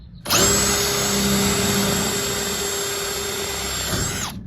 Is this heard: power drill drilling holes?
yes